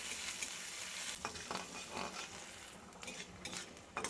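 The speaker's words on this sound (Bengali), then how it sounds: "দিয়ে দিলাম কুচিয়ে রাখা পেঁয়াজ পেঁয়াজটাকে দিয়ে দু মিনিট ভেজে নিলাম" Chopped onion frying in hot oil with nigella seeds and dried chilies while being stirred in a pan, a steady close sizzle with occasional utensil scrapes and clinks.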